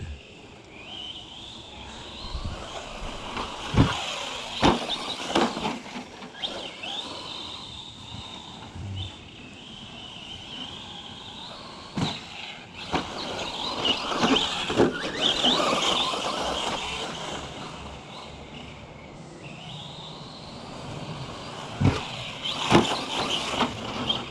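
An ARRMA Fury brushless RC car, 3650 3900 KV on 2S, drives around a track with a banked turn, its high electric motor whine rising and falling alongside sharp clicks and knocks from the chassis bouncing over the ground.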